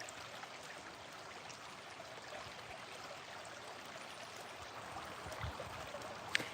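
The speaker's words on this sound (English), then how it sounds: "to sit here and listen to this creek" A creek flows steadily in the open, giving a soft continuous wash of running water at low level, with no talking.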